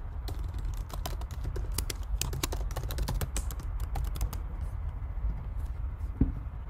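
Someone types on a computer keyboard, entering login credentials with quick, close, irregular keystrokes over steady low background hum, and no one speaks.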